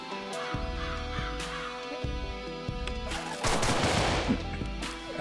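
Pistol shots ring out in the Deadbolt video game, sharp transients cutting through a steady musical backdrop, several spaced reports with a denser burst of noise midway.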